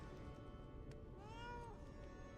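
A cat in a video game lets out a single faint rising-and-falling meow, heard over a dense, steady background of game ambience and music, with no talking.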